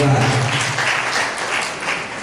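Church congregation clapping during a Sunday service, a continuous close burst of hand claps with voices mixed in underneath.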